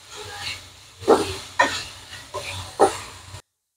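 Garlic spicy mushrooms being stirred in a pan, four distinct scraping strokes spaced about half a second apart over a low, steady cooking hum.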